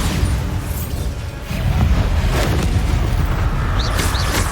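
Bombarda blasting spell explodes in Hogwarts Legacy, a heavy rumbling boom that swells and stays loud and sustained for several seconds.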